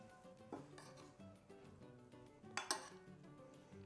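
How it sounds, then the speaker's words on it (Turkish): Pasta salad gets tossed with two spoons in a bowl, producing quiet, irregular clinks and scrapes with a couple of sharper knocks toward the end. "Şöyle iki kaşıkla güzelce karıştıralım ki harmanlansın"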